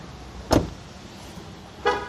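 Jeep Compass unlocking with keyless entry, two sharp mechanical clunks from the door locks about a second apart, with a short chirp on the second, heard close by.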